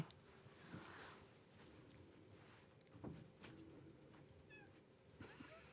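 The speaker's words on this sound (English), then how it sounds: "Wait for the meow." A cat's meows sound in short bursts over a quiet room, with faint background noise and a soft knock or thump around the middle.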